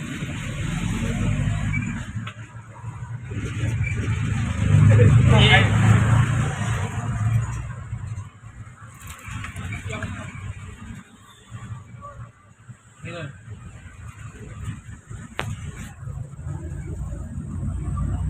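Congested night traffic on a city road: engines idle and rumble up close in the jam, with people talking throughout.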